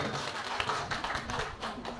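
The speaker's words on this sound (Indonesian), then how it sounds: "tepuk tangan dulu untuk Bu Nur" Faint applause for a teacher at a school event on positive culture, a soft patter of scattered hand claps heard from some distance.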